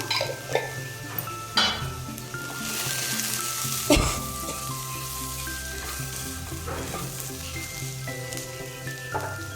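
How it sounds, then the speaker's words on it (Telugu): Cumin seeds frying in hot oil in a pan, a bright steady sizzle close by with a few metallic stirring clanks and scrapes, no voices. "జీలకర్రని వేసుకొని కొద్దిసేపు వేపుకున్న తర్వాత"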